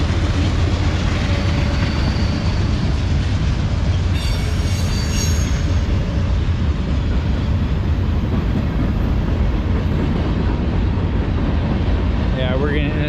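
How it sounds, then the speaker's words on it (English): A freight train passes close by in Pittsburgh, a loud continuous rumble of rolling wagons that fills the whole stretch, with metallic wheel squeals rising near the end. "There's another train coming right through there."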